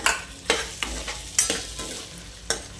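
Mashed potato being stirred into a pan mixture, with a series of sharp spoon scrapes and knocks against the pan over a soft background sizzle, close and clear, no talking.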